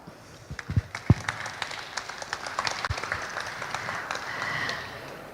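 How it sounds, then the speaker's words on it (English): An audience at a mining technology forum claps together in a scattered, moderately loud burst that thickens into steady applause, heard from within the room. "please join me in giving a warm welcome with a round of applause"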